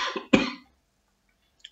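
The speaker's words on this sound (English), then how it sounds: "one day I'm going to do a video without coughing" A man coughs twice in quick succession, close and sharp, followed by silence and a faint small sound near the end.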